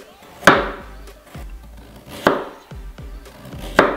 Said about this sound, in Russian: понадобится 2 морковки, довольно крупные. И нарезаем кругляшками.